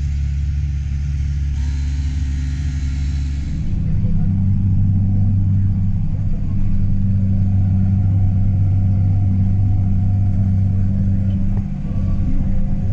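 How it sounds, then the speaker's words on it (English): A tractor engine drones steadily while pulling up a grade in 14th gear at about 1900 RPM, a loud, even low rumble that carries on throughout with a slight shift in tone early on. "there I pulled the grade in 14th gear, about 1900 RPMs, just fine with no fuel filter code"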